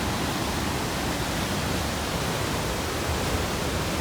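A powerful waterfall near Taupo, pouring roughly 200,000 litres a second, heard from about 50 metres back as a steady, dense broadband roar that fills the whole span without letup.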